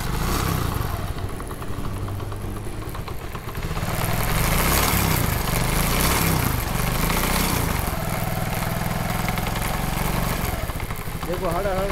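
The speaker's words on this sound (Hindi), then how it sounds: "देखो देखो व्हील घूम रहा है तो खड़कर कर रहा है।" TVS XL100 moped engine running with a knocking fault, a close, uneven chugging clatter that keeps going throughout while someone talks over it.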